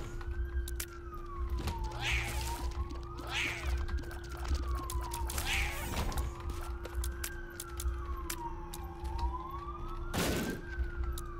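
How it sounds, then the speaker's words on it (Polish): Rising and falling wails of a police-style siren from The Binding of Isaac: Rebirth game sweep up and down repeatedly, loud and continuous, over a steady electronic hum with cat-like meow sounds popping up between the sweeps. "Kurde, te syreny, no."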